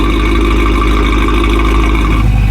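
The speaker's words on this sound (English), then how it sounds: "I'm gonna show you guys how it sounds like idling with both sounds" A BMW E9X M3 with S65 engine and catless valved exhaust idles loudly and steadily, a deep low rumble with a throbbing pulse, continuous and close throughout.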